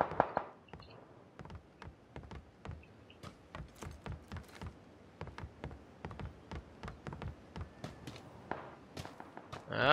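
Rapid bursts of gunfire in the PUBG battle royale game, sharp cracks repeating at an uneven pace across the span, off to the right at moderate distance, with no talk over them.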